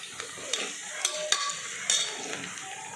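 Onions sautéed in a pan give a soft steady sizzle. A spoon knocks and scrapes the pan several times at uneven intervals, with no talk.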